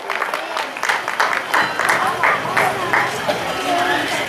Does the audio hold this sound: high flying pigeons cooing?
no